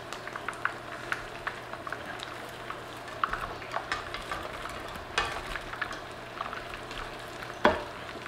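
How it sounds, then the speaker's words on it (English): Chicken wings reheat in hot frying oil, a soft steady sizzle dotted with small pops and crackles, and one sharper spatter near the end; no voices. "We're going to throw these wings back in here just to reheat them"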